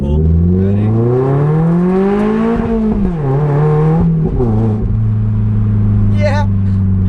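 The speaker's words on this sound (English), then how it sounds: "First gear pull, ready?" A Lotus car accelerating hard in first gear, its engine note climbing steadily and loudly from close range, dipping briefly at a shift-like pause before holding a strong, steady drone, with a faint voice near the end.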